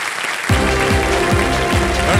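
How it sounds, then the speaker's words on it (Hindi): Studio audience applause on the quiz show Kaun Banega Crorepati rises suddenly after a brief quiet start and holds steady and loud, with a tonal musical sting swooping over the clapping. "एक बार फिर तालियों के साथ इनका हम अभिनंदन करते हैं"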